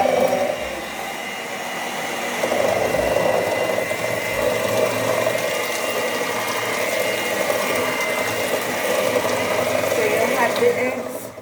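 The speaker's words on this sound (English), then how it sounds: "So I'm creaming the butter and the sugar." An electric mixer creams butter and sugar for a gluten-free coconut cake, giving a steady mechanical whir with a grinding, ratcheting edge that grows louder after a couple of seconds and runs on continuously.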